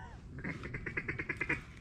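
A wild duck quacks in a quick run of about ten calls during a flooded-timber duck hunt in Arkansas, faint and somewhat distant against a quiet background.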